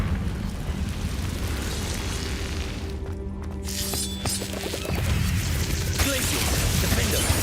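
Confringo blasting-spell explosions in the video game Hogwarts Legacy, loud rumbling bursts and crashes over a dense, roaring game soundscape, with a short lull before the noise surges back.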